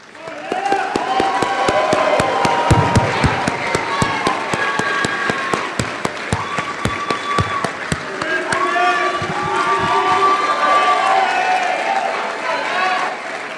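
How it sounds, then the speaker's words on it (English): Family members and friends of graduates at a May 2022 commencement ceremony stand to applaud and cheer, a loud sustained crowd roar with sharp claps and whoops, voices calling out throughout. "we ask the family members and friends of the graduates to please also stand and applaud"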